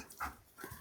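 Dogs panting softly outdoors at an off-grid cabin build in Alaska, a brief faint burst of quick breaths with a slight whimpery tone.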